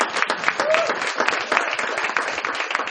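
Audience applauding a teacher at a teen mental health symposium, a dense, steady wash of many hands clapping throughout, fairly loud and unbroken.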